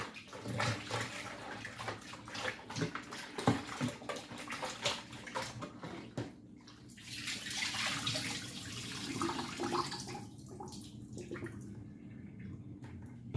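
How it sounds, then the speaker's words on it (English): Running water pours steadily into a kitchen sink as salmon fish is rinsed in salted water, a continuous close splashing rush with shifting spatter and no voices. "Not doing a lot of fish, guys, so I'm just rinsing this"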